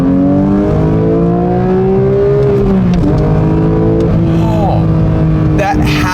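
A 2022 Porsche 911 GT3 Touring engine revs hard toward redline, its pitch climbing in a loud rising howl, then dropping and surging again between shifts.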